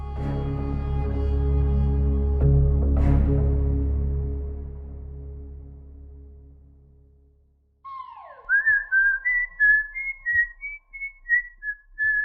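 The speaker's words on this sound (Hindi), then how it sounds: "गाना मुंह पे चढ़ गया तो ऐसी सीटी बज गई" A person whistles a song tune, a clear melodic run of short, bright rising and falling notes, heard alone after a fading musical chord dies away into silence.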